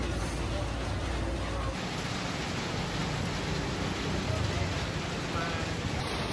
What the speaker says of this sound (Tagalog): Ngayon, habang umuulan